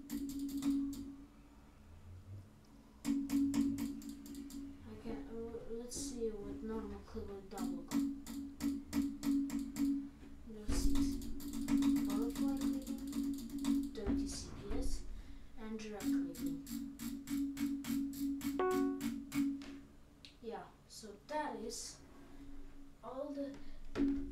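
A computer mouse is clicked in fast rapid-fire bursts of jitter and butterfly clicking, with dense trains of sharp ticks broken by pauses, while a person talks over it throughout.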